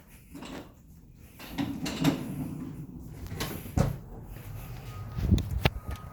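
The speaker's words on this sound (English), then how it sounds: "let's come this way out of our back door" A back door is opened with a series of close clunks, a latch rattle and knocks spread over several seconds, among soft shuffling movement, no talking.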